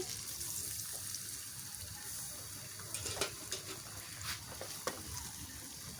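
Water is poured into a pan of cooking chickpeas, giving a steady hissing sizzle with faint splashes and a few scraping stirs close by.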